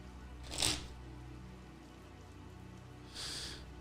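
Tarot cards being shuffled in two brief, crisp riffling bursts, the first near the start and the second near the end, separated by a quiet stretch of low room hiss.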